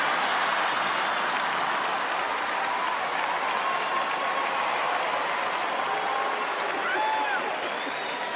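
Stand-up comedy audience at a Gabriel Iglesias show, applauding in a full, continuous burst of clapping from a large crowd.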